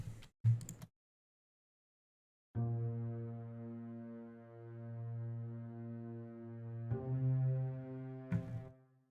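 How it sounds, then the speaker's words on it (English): Doubled pizzicato strings give a couple of short low attacks, then a long sustained low tone holds steadily, swelling and joined by another plucked note near the end. "doubled pizzicato with sustain tone"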